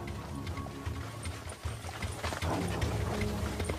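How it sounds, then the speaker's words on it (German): Horse hooves clip-clop steadily as a wagon drawn by up to six horses travels a road in ancient Rome, a continuous rhythmic clatter over low rolling rumble. "Wer es sich leisten kann, fährt in einem Wagen mit bis zu 6 Pferdestärken relativ komfortabel"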